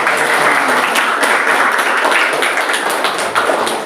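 A class of children claps together in a classroom, a dense, loud, steady patter of hands lasting the whole few seconds with occasional taps and thumps.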